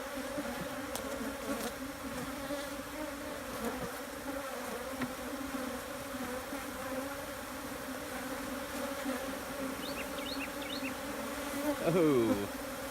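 A honeybee swarm being moved into a hive on a North Carolina farm, a close, continuous buzzing drone of many bees that swells briefly near the end.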